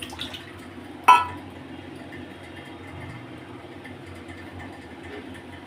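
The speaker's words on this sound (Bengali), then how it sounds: "ধনে পাতাটা ভালো করে ধুয়ে নিচ্ছি জল দিয়ে।" Coriander leaves are rinsed under water in a kitchen, a soft, steady trickle and swish broken by one bright clink of a vessel near the start.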